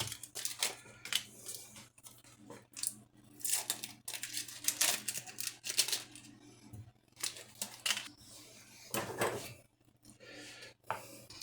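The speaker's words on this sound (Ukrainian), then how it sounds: "Теж його наріжемо такими кубиками." A knife slices processed cheese into cubes on a board in a home kitchen, giving a run of soft, quiet, irregular cutting taps and clicks.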